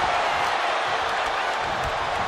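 Arena crowd roaring and cheering during a WWE 2K24 elimination chamber match in the video game, a steady loud wall of crowd noise with a faint commentary voice in the mix.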